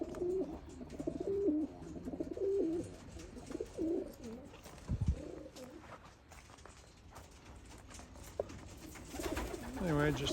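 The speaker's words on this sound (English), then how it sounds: "Anyway, I just thought I'd show some of the birds today." Racing and Birmingham roller pigeons coo steadily in a loft, soft repeated rolling calls filling the clip from near and mid distance, with occasional wing or movement thumps and some faint voice in the background.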